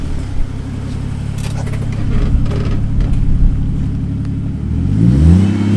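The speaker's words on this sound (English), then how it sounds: "It sounds good. It's really subtle. I like it. It's actually quieter than the Venom." Ford Falcon FG ute fitted with a full stainless turbo-back exhaust and single tip, its engine idling with a steady low rumble and a few throttle blips, then a rising rev near the end, close and alone.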